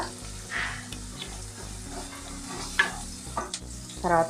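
Carrot pieces, beans and cashews are stirred while frying in an electric cooker pot for bagara rice, giving a steady sizzle under scraping stirs and a few louder clinks toward the end.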